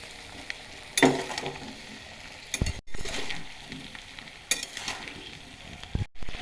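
Jujubes (kul) are stirred in a hot pan for pickle. A spoon scrapes and clinks in several separate strokes over a soft, steady sizzle.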